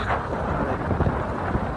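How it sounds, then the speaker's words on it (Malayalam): Steady, broadband cold wind rushes against the microphone, a continuous low roar with gusty buffeting and no voices, on a road through Achankovil forest. "നല്ല തണുത്ത കാറ്റ്."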